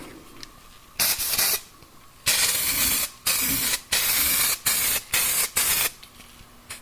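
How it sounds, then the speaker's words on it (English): Spray paint applied to welds on a Ford Ranger, a loud, close aerosol hiss in about seven short bursts of roughly half a second each, separated by brief gaps. "I'm gonna put some paint on it"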